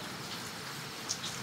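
Rain falling outside a veranda at night as a faint, steady hiss with a few soft drop ticks, quiet and even.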